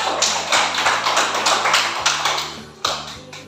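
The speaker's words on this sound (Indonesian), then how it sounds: "Oke, kita tepuk tangan dulu untuk kelompok 1." A class of students claps together for a group during a Catholic religious education lesson, with loud, quick, evenly spaced bursts of claps that keep a steady beat throughout.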